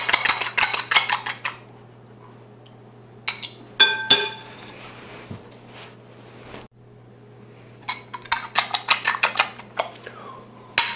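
Cauliflower croquette mixture being stirred in a bowl, the utensil giving bursts of clinking and scraping against the bowl at the start and end with a quieter pause in between.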